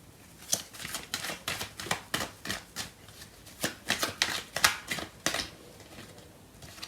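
Tarot cards being shuffled by hand, a series of crisp riffling and slapping bursts in an irregular rhythm, close and fairly soft, with no one talking.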